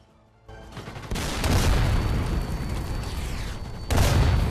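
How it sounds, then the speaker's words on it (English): A captured artillery gun fires at a tank in the VR shooter Sniper Elite VR, heavy booming blasts rolling into a sustained loud rumble, with a second sharp blast near the end. "The captured artillery destroyed the tank and bought us another chance."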